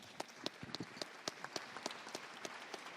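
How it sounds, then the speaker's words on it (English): Sparse, faint clapping from a small conference audience, with distinct individual claps scattered irregularly over a quiet room. "I'd now kindly ask all of you to join me in a round of applause for our great speakers today."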